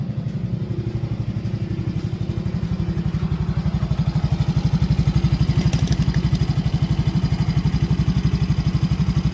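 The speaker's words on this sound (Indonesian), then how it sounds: "Kita panaskan mesin sampai 85 derajat Celcius supaya ECU bisa mengkalibrasi settingan yang kita buat" A motorcycle engine idles steadily while warming up toward operating temperature, a close, even low-pitched putter with a fast regular pulse and faint mechanical clatter, running alone throughout.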